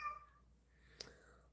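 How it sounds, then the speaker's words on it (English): A domestic cat gives a short, faint meow at close range in a quiet room, followed by a brief click. "You want to just meow at me"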